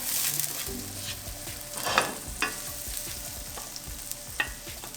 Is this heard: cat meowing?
no